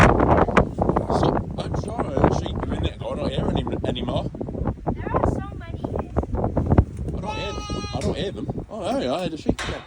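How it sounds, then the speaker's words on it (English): Sheep bleat outdoors in the Lake District during a rain and windstorm, several wavering bleats near the end over steady talking and gusty wind buffeting the microphone. "Oh, yeah, I had a sheep there."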